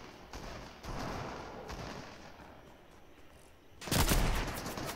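Bursts of gunfire in the video game Fortnite, several short volleys followed by a louder blast near the end, heard in a game session.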